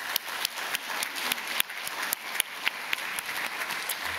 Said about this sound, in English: So let's give a big round of applause to Joel, Shannon, and the National Marine Sa